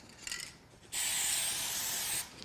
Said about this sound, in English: you might want to spray approximately 3 or 4 times.